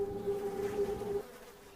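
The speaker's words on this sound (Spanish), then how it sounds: "alas que vibraban con un zumbido grave como un susurro ahogado" Large, glossy black flies buzzing with a low, steady drone that holds for about a second before cutting off, leaving a faint background hum.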